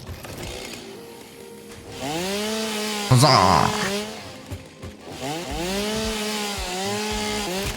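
A chainsaw in the video game Satisfactory bites into wood in one short, loud, harsh burst midway through, with someone talking over the game before and after it.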